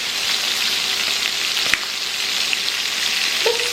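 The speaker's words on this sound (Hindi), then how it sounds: "फ्राई कर रहे हैं, फिश मेरी उधर बन रही है" Salmon fillet seasoned with salt and black pepper sizzles steadily in a hot pan, a dense continuous crackle with a few sharp pops and a faint scrape near the end, no voices.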